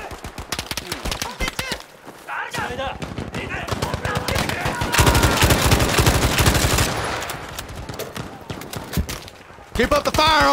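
Heavy automatic gunfire rattles in Battlefield 5 on a Pacific front battle, loud overlapping bursts that build into a dense barrage, with voices shouting between the shots.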